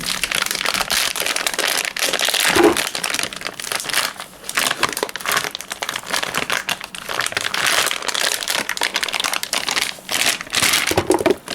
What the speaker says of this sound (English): the directions say to cut the blocks into fourths, and I'm going to try my hardest to do that